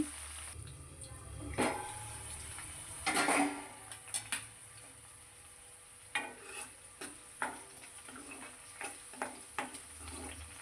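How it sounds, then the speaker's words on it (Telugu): Green chillies fry in a pan for an ivy gourd chutney, with a faint steady sizzle under scattered spoon scrapes and clinks against the metal, quiet and close. "పచ్చిమిర్చి బాగా వేగాలి"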